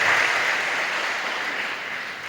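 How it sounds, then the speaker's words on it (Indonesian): An audience of hundreds at an Islamic boarding school event claps continuously in a dense, even patter, fading slightly toward the end. "Tepuk tangan untuk generasi Al-Mizan hari ini"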